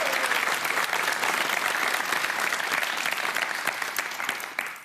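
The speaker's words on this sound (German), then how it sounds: "das hat Applaus verdient" A television cooking show studio audience applauds a contestant, dense sustained clapping throughout that fades slightly at the end.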